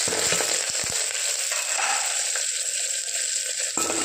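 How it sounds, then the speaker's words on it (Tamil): Mustard seeds frying in hot oil in a home kitchen for dal rasam, a steady close crackling sizzle with small pops early on. "ஆயில் ஊற்றியாச்சு. நெக்ஸ்ட் கடுகு போட்டுக்கலாம். கடுகு பொரிஞ்ச பிறகு நம்ம எடுத்து கொடுத்துக்கலாம்."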